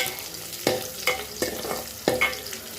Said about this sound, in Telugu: ఎర్రగడ్డ వేగిందండి.